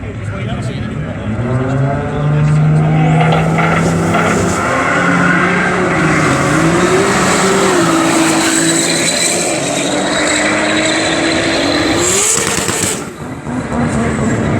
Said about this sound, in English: Earlier rear wheel drive Skyline.